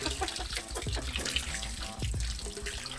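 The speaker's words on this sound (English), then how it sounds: "Oh, that's just water in there." Water trickles and splashes inside an old combine harvester, an uneven close gurgle with small drips and sloshes, fairly quiet and without voices.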